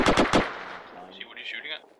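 Arma 3 video game combat: a rapid burst of three loud, close gunshots, followed by a fainter, higher-pitched whine or distant ring trailing off.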